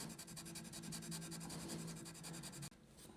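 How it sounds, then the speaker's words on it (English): A guitar nut on a custom headless guitar being worked with a nut shaping file, steady close rasping strokes in a continuous rhythm, stopping abruptly near the end. "Just going to use a dress nut file, like nut shaping file."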